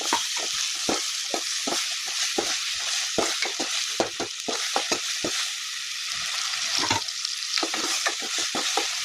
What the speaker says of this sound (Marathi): आता टमाटर टाकून घेते